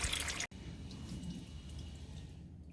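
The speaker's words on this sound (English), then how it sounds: "Okay, I'm just going to let that drain for a minute," Transmission fluid draining from the pan of a Jeep Patriot, a steady, low liquid trickle and patter that runs continuously, briefly cut off near the start.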